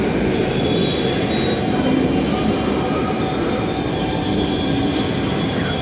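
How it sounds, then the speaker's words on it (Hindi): A metro train pulls in with a loud, close rumble of rail cars and a squeal of wheels on track, a steady roar throughout. "तो फाइनली मेट्रो आ गई है"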